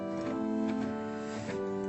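Pipe organ sounding three blended 8-foot stops together, a soft, steady sustained chord held quietly for a couple of seconds.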